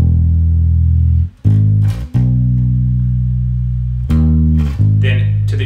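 Bass guitar playing sustained chorus notes of a song, a few deep, round notes held for long stretches with brief breaks between note changes, loud and close with no talk.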